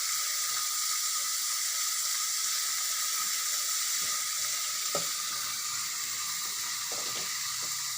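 Onions frying to golden in a pan give off a steady, close sizzle, broken by a few soft clicks of stirring, with no voices.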